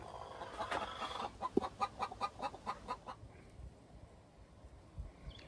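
Chickens clucking at a hoop coop, a run of repeated rhythmic clucks and calls close by for about two seconds, then trailing off into quieter background noise.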